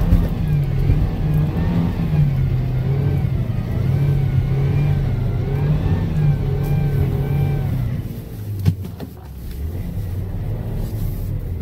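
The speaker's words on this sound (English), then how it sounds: "Do we do a front wheel drive donut?" A rusty 1980 Ford Mustang on studded Toyo snow tires revs repeatedly as it spins a donut in snow, its engine rising and falling in a rumbling, wavering drone that drops away near the end.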